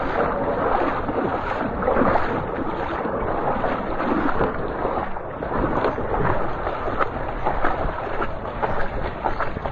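Motorcycle ploughing through deep flood water, a steady churning rush of splashing water and wind buffeting with the engine buried underneath, sustained and close.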